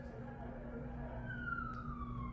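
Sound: ambulance siren passing in traffic

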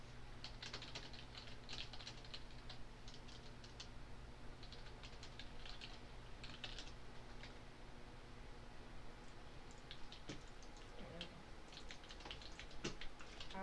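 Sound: typing on a bulky computer keyboard

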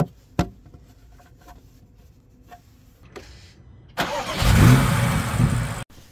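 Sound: BMW X5 M Competition 4.4 V8 engine running, injectors audible

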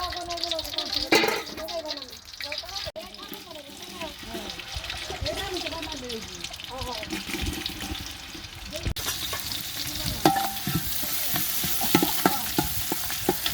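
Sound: frying garam masala and bay leaves for biryani

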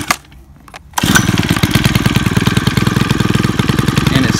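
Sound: Stihl FS 91R weed eater engine starting and idling

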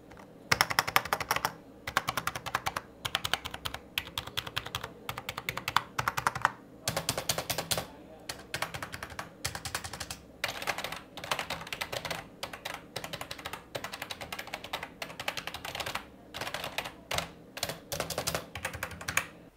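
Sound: typing on budget gaming keyboard

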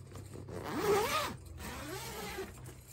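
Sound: unzipping the cover of an electric clothes dryer

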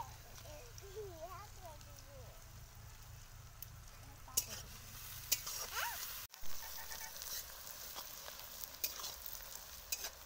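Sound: onions frying in a pan

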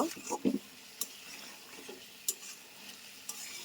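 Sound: sautéing chicken curry in a pan

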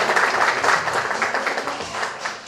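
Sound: applause for the mayor of Karlovo

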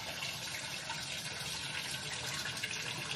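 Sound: rinsing ramen noodles with cold water in strainer

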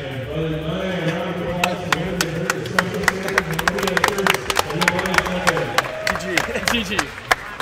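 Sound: audience applause for tournament winner and runner-up

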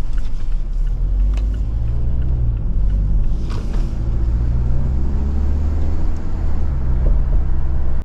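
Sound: Mazda6 Wagon 2-litre non-turbo petrol engine revving

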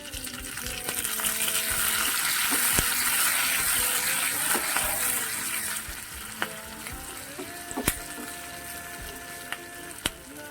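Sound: dried red chillies and curry leaves sizzling in oil

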